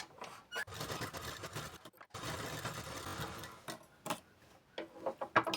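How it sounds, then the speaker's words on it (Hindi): Sewing machine top-stitching a double line of stitches on a blouse, heard as bursts of close, rapid mechanical rattling broken by short pauses, with no talking. "तो देखो यहाँ पर मैंने डबल लाइन पर टॉप सिलाई लगाई"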